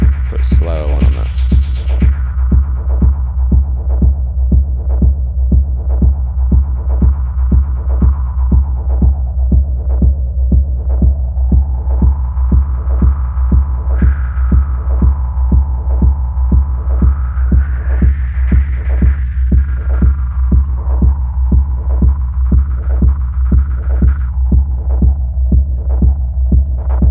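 A synthesizer in the virtual-reality music app SynthVR plays a deep, humming tone pulsed at an even rapid rhythm, while a slow LFO sweeps its brightness up and down over the length of the passage.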